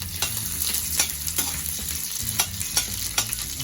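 Onions sauteing in a pan over medium heat: a steady close sizzle and crackle, broken by repeated scraping stirs of a utensil against the pan.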